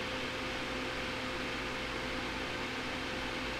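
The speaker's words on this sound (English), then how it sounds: "I apologize for that fan noise." A steady, quiet whirring hum of a fan runs on continuously with a faint tonal drone and no voices.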